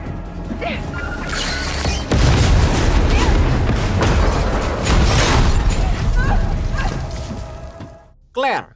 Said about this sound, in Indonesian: sebuah bom dikirim ke tempat Joey yang saat ini berada